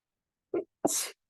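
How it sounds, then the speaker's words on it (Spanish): A single human sneeze, close and fairly quiet: a short sharp intake followed by a brief hissing burst, with silence before and after. "Cuando uno sneeze es estornudar y decimos salud."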